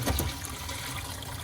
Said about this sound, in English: we're simply just going to drain it off.